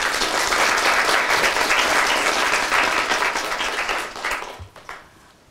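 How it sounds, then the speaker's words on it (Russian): An audience at a psychology and life-coaching master class claps together in steady, dense applause that holds strongly before fading out near the end. "Давайте похлопаем."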